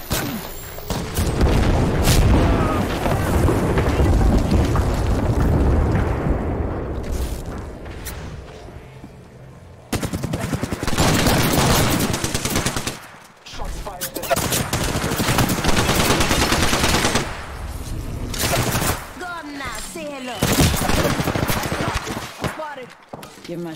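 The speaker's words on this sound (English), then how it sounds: "Airstrike came too close." Dense, loud gunfire and booming explosions from an airstrike in the video game Apex Legends, continuous rapid bursts with brief pauses, a player voice speaking over the battle.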